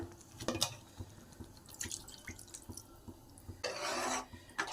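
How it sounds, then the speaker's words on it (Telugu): A glass of water is poured into a simmering mutton and lady finger (okra) curry in a pot, a brief rushing splash near the end after soft drips and scraping. "ఒక గ్లాస్ నీళ్ళు వేసుకుందాం"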